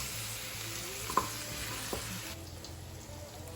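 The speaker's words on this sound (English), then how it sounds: "You sear your meat." Meat sears in a hot pan with a continuous close sizzle, broken by a couple of brief utensil taps as it is turned.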